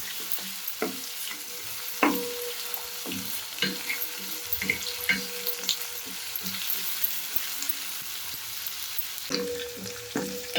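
Onions sauté in a pan for doodhi dahi tikhari, a continuous soft sizzle with intermittent scraping and tapping stir strokes from a utensil, some sharper clinks mixed in.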